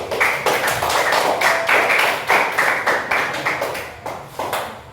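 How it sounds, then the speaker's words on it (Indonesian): Classroom students clap together for the second group, a steady run of close, fairly loud claps that rise and fall in short bursts over about five seconds with no talking. "Tepuk tangan untuk kelompok 2"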